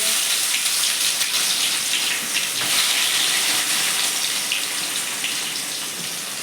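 Finely chopped onions frying in hot oil with green chilies, a loud, dense, steady hiss that eases slightly toward the end, close and uninterrupted.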